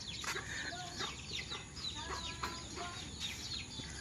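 Chickens cluck and chatter continuously at a rural farm hut, many birds overlapping in quick, busy calls at moderate distance, fairly quiet overall.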